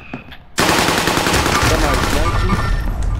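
Sustained machine-gun fire erupts suddenly in a shooter video game and keeps rattling on loudly at a rapid, steady rate.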